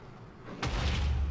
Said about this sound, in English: Let's try the rocket launcher, which I made these cool rockets.